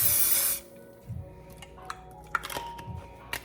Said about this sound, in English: I'm gonna go ahead and spray some cooking spray.